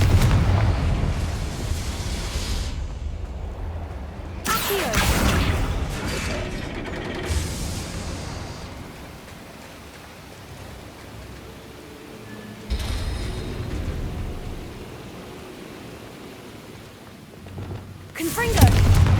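The Confringo fire-blast spell from Hogwarts Legacy goes off in several loud bursts spread apart, each a broad booming explosion followed by rumbling decay, with quieter game ambience in between.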